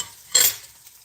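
Pork katsu fries in a pan on a stove turned down to medium, giving a short, loud burst of sizzling that flares up and then settles into a quieter crackle, with no one talking.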